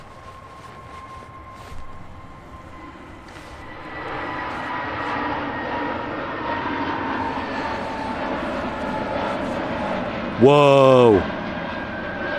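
A jet airliner lands on the runway at Manchester Airport, its engine roar swelling steadily from faint to loud and holding steady, while a person briefly exclaims near the end.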